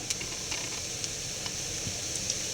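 Masala sizzles and hisses steadily in a pan as turmeric powder goes in while frying spices for prawn theyyal, with faint stirring taps over the constant fry.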